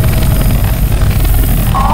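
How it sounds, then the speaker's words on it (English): A helicopter in the video game Left 4 Dead 2 gives a loud, steady, rumbling rotor drone that stays constant throughout. "A chopper."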